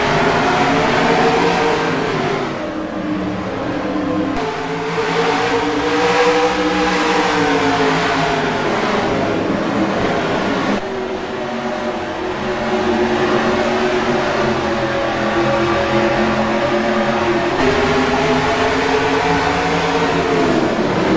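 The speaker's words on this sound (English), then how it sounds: "he waves it to launch off the Oswego 150" A pack of race trucks in NASCAR Racing 2003 launches at the green flag at Oswego, engines revving loudly together with rising and falling pitch sweeps as they accelerate through gear changes, sustained and close.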